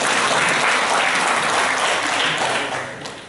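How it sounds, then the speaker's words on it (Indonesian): A crowd at an agricultural outreach gathering for extension workers and young farmers in Bima breaks into loud, sustained applause that fades slightly toward the end. "Tepuk tangan."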